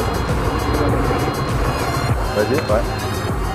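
A 125cc motorcycle engine rumbles close by as the throttle opens and the bike pulls away in first gear during a learner riding lesson, with a voice speaking briefly over the steady engine drone.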